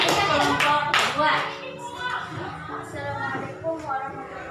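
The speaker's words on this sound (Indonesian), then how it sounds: "tepuk tangannya untuk kelompok 1" A classroom of students claps for a group of classmates, a lively burst of hand claps that fades after a couple of seconds into chatter and children's voices.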